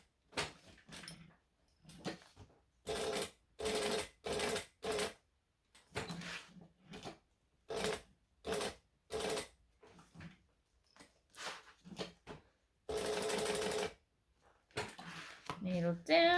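A sewing machine stitches fabric for a bag in short, steady mechanical runs separated by pauses and small handling clatter, with longer bursts of continuous whirring.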